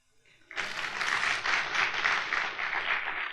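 An audience at a seminar in Rajkot breaks into applause that starts abruptly and holds as dense, sustained clapping for about three seconds.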